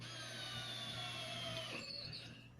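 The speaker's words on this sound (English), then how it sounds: "I'm drilling these holes at an angle" A power drill bores angled holes into a wooden segmented bowl of maple with mahogany accents, giving a steady, close whirring hum that holds for most of the moment and then tapers as the bit winds down near the end.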